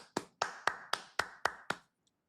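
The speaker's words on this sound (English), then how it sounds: "clapping for y'all" Seven sharp hand claps in an even, steady rhythm, close and clear with no talking, then silence.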